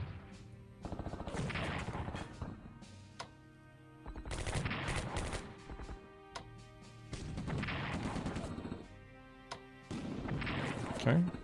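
Artillery shells landing on entrenched troops west of Moscow in the World War II strategy game Strategic Command WWII, rumbling explosive bursts in several loud waves separated by short pauses, with a voice talking over them.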